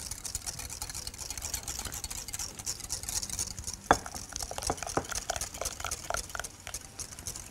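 A spoon stirs yogurt into a simmering sauce with continuous soft scraping and sloshing, marked by a few small clinks against the pot.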